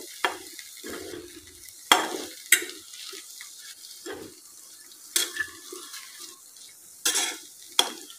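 Leftover chapati pieces stirred with tomato ketchup in a pan, giving soft scraping strokes and occasional sharp clinks of a spoon against metal, spaced irregularly over faint sizzling, close and quiet, without talk.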